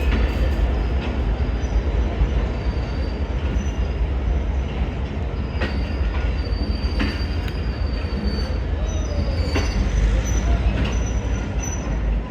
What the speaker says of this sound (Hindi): GMCU 15 जो शंटिंग की ड्यूटी सर अंजाम दे रहा है पेशावर कैंट रेलवे स्टेशन पे